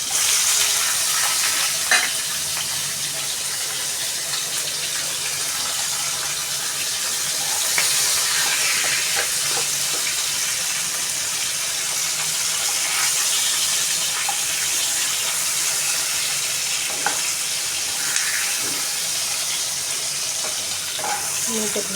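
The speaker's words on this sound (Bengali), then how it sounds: "আমি এর মধ্যে পেঁয়াজ কাঁচা লঙ্কা আর টমেটোটা দিয়ে মশলার সাথে ভাজবো।" Onion, green chili and tomato frying in oil with spices, a steady broad sizzle running throughout with occasional stirring clinks, close and fairly loud, no voices.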